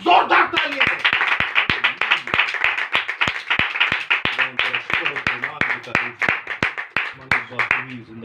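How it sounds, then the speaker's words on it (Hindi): Church congregation at a Hindi-language sermon claps loudly in a fast steady rhythm, many hands together, while a voice speaks or sings over the clapping throughout. "एक बार जोरदार तालियां।"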